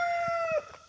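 Backyard farm chickens pecking at stale bread give a close, loud, drawn-out cluck that tails off into softer chattering, heard briefly and alone.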